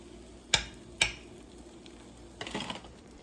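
Eggs fry in a pan and get pushed around with a utensil. Two sharp clicks come first, then a brief scraping, stirring rustle over a quiet background.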